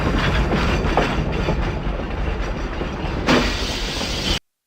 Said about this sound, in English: when the train starts making noises like that